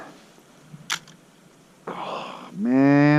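A camera shutter frozen in Arctic cold gives a single sharp click, then a soft rasping mechanical sound, followed by a brief voiced sound at the end over a quiet background.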